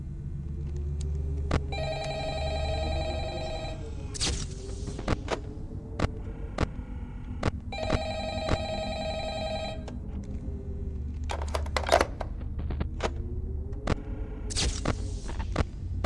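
Telephone in the Halloween DLC of Five Nights at Freddy's: Help Wanted, with repeated bursts of old-fashioned bell ringing that start and stop over a low droning hum, accompanied by scattered clicks and sharp bangs.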